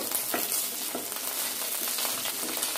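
Curry leaves sizzle and crackle in hot oil in a home kitchen for kadala soya chunks curry, a steady close frying hiss with a few sharper pops and light stirring scrapes, no talking.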